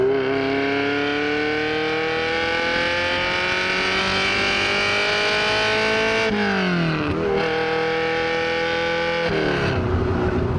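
Ferrari Mondial Quattrovalvole engine revving hard after a downshift on an open road, a loud sustained climbing roar with rising harmonics, briefly dipping at gear changes then pulling up again, heard alone without talk.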